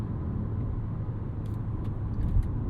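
A 2026 Audi Q3 turbo compact SUV drives through the city, its engine and road noise a steady, hushed low rumble from inside the cabin, with a few faint clicks over it.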